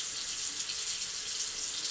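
Tap water runs in a steady, close hiss into a sink during an old-school shave with a blade, continuous and even throughout with no voices.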